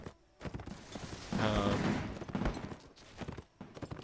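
Musket volleys ring out across a battlefield in a Napoleonic-era strategy game set among French troops, a dense crackle of massed gunfire swelling in the middle of the clip over a rumbling battle din, with no speech.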